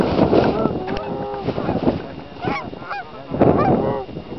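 A flock of geese honks loudly and continuously overhead during a Kansas goose hunt, with a snow goose among them, over wind noise on the microphone.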